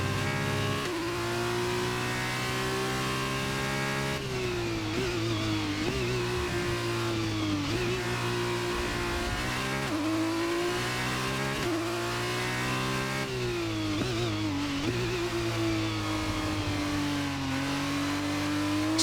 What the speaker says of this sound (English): It's just the iconic sound, isn't it, of Formula One? The screech of, I say screech, more of a scream of those V10 engines.